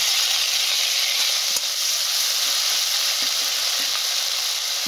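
Ground onion and green chilli paste fries in a pan for a prawn malai curry, producing a loud, dense, continuous sizzle with faint stirring scrapes.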